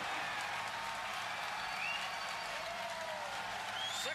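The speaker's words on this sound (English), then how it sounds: "Successful separation, if you can hear me over the cheering." Large crowd cheers and applauds at a SpaceX Falcon Heavy launch as the side boosters separate, a dense, sustained roar of clapping and voices with faint whistles rising over it.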